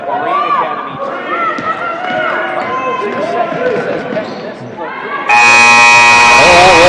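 Commentary over crowd noise at a high school girls basketball game, Minneapolis (Kansas) against Republic County, gives way to a loud, sustained end-of-game buzzer that blares to the end.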